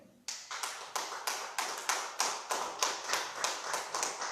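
A congregation claps in a steady, even rhythm at a church service, about fifteen sharp claps in four seconds, close and moderately loud with no voices over them.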